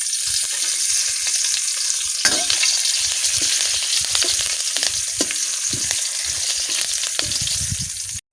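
Curry leaves crackle and sizzle in hot oil, a loud, bright, continuous frying hiss broken by sharp pops and occasional stirring scrapes, cutting off abruptly at the end.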